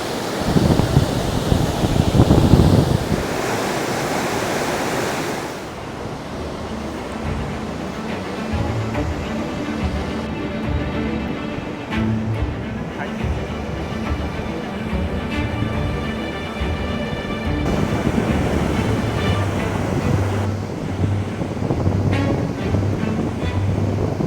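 Rushing water at a waterfall in the Desolation Wilderness above Tahoe, a steady broadband roar that starts heavy with wind buffeting the microphone, then continues as a constant wash at moderate distance.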